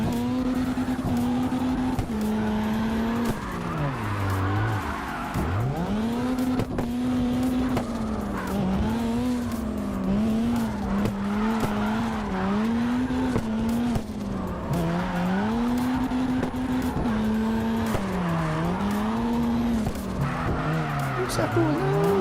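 Drifting car in CarX Drift Racing Online wails with a sustained engine note that dips and rises as the throttle is worked, tires squealing through long slides, steady and continuous for the whole stretch.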